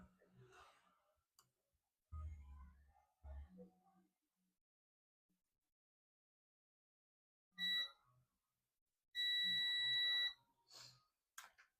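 A multimeter in continuity mode gives a steady high-pitched electronic beep lasting about a second while probing a shorted capacitor on a Dell Latitude E5250 logic board, with brief scattered speech and breathing around it.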